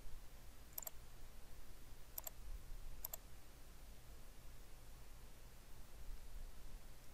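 Three quiet double clicks from a computer mouse during jewelry CAD modelling of an emerald cut bridal ring, spaced apart over a steady low hum and faint background hiss.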